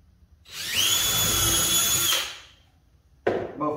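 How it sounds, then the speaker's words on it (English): A power drill with a 5/32 drill bit boring through wood, a steady high whine that spins up, holds for about a second and a half, then winds down, followed by a brief second burst near the end. "Now here I have a 5/32 drill bit. I'm just going to pump the hole right through it."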